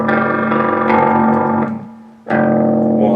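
An electric guitar runs through an Electro Harmonix Stereo Pulsar tremolo pedal set to intermodulate, giving a warbling, detuned, ring-mod-like tone; loud sustained chords decay, briefly drop out, then a fresh strum rings.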